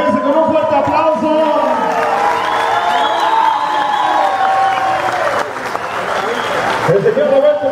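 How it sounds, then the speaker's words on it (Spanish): Sustained applause from a large crowd at a live music show at Atico 512, mixed with shouts and cheering, loud and continuous throughout. "Vamos a recibirlo como se merece, con un fuerte aplauso."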